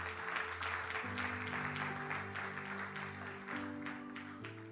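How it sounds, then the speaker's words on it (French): A church congregation cheers and claps loudly for the Lord during a sermon. A dense wash of applause rides over sustained, shifting organ-like tones, gradually fading a little toward the end. "Acclame très très fort pour le Seigneur."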